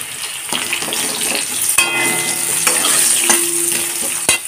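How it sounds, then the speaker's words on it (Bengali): Potatoes sizzle loudly in hot oil tempered with five-spice (panch phoron), a steady close frying hiss broken by a few sharp stirring scrapes and clinks of a spatula against the pan. "5 ফোড়নের ভাজা গন্ধ ছাড়তেই প্রথমে দিয়ে দেব আলু।"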